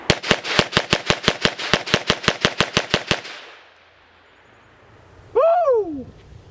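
Rapid string of about eighteen evenly spaced gunshots from a TNW Aero Survival Pistol, a compact, light blowback firearm at an outdoor range, loud and close, followed by silence and then a brief whooping voice.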